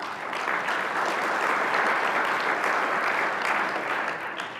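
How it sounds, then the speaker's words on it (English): Conference audience clapping hands in a steady, dense burst of applause, loud and continuous throughout, tapering slightly at the end, with no voices over it. "clap your hands, please."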